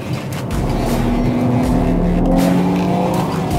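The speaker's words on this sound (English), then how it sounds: "Now we're driving out of the corner with slight oversteer." A car powers out of the Fuchsröhre corner with slight oversteer, its engine droning loud and close in a steady sustained roar with shifting pitch tones throughout.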